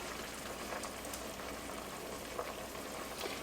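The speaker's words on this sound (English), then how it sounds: "I'm going to take these little raviolis and I'm going to drop them in my hot water" Ravioli dropped a few at a time into a pot of boiling water, giving a steady close bubbling hiss with faint splashy ticks throughout, no voices.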